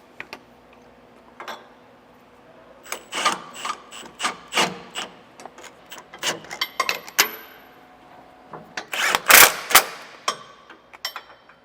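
A hand ratchet snugs down anti-sway bar hardware on a 2005 Workhorse chassis, giving a run of close, sharp clicking strokes in short bursts with pauses between, then a louder clatter near the end.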